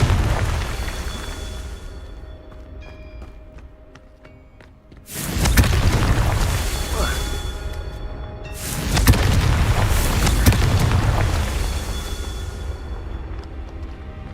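Two heavy fire-spell blasts from Hogwarts Legacy erupt close and loud, each a sudden broadband boom with a sustained roaring crackle, separated by a stretch of quieter ambient game sound.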